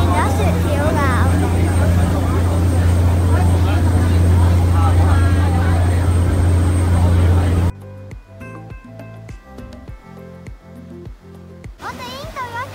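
Ferry engine droning low and steady on a ride to Tap Mun with seagulls following, heard under people talking before it changes to a quieter, patchier scene.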